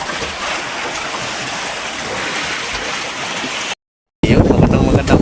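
Big sea waves heard as a loud, continuous rushing wash of water, cut by a brief silent gap before resuming just as strongly.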